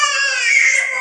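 A villupattu performer's voice imitates a crying baby, a loud, sustained, high wail lasting about a second with no other sound.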